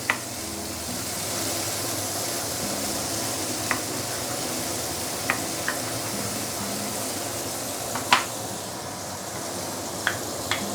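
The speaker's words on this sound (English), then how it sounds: "Saute this for a while." Fresh coriander with onion sautéing in a pan, a continuous even sizzle and hiss close by, punctuated by a few brief spatula taps and scrapes, with no talking.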